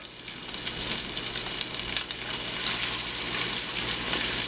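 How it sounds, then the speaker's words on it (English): Meatballs sizzle steadily in hot oil in a pan, a dense continuous frying crackle at close range with no talking. "So we're just gonna fry these up until they're brown on both sides."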